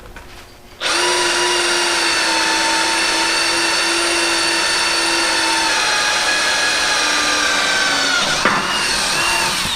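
Power drill boring a guide hole for a bolt while building shock mounts: a loud, steady high-pitched whine starting abruptly and holding for about nine seconds, with a brief change in pitch near the end.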